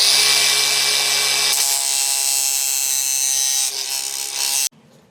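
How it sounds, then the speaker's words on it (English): An angle grinder grinds the head off a ball joint rivet with a steady, loud, high-pitched whine that runs nearly five seconds, then cuts out abruptly, leaving only a faint low hum. "So I'm just going to grind that off real quick."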